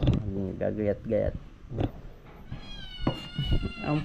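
A hungry pet cat meows repeatedly with rising, drawn-out calls, close by, while people talk in Filipino over and between the cries.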